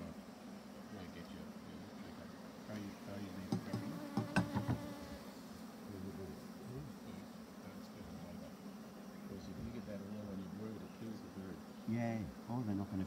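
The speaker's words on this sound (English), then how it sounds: "You can go away, little bee." Bees around a horizontal beehive in Australia, a steady close buzz with individual insects droning past the microphone, while people talk quietly nearby.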